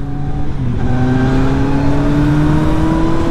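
Kawasaki Z motorcycle engine with an MIVV exhaust, a loud close steady growl with a slowly rising pitch as it revs, no talking.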